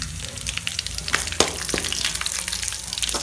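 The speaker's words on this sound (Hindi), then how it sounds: "लहसुन उसमें डाल के लहसुन को थोड़ी देर पकाएं" Chopped garlic frying in a hot pan, a steady close sizzle with crackling pops throughout, no voices over it.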